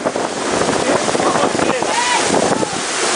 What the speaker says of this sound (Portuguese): vento é muito forte.